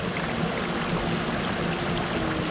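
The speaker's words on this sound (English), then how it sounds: "there's more water coming down the creek." Water rushing down a creek at Chestnut Ridge Park, a steady broadband gush and babble, close and continuous with no talking.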